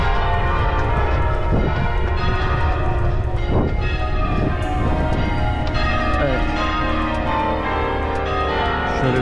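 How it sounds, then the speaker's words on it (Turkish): A church bell rings outdoors in Brussels or Amsterdam, heard as a few spaced, resonant strikes over constant loud wind and street noise. "kilise çanı çalıyor"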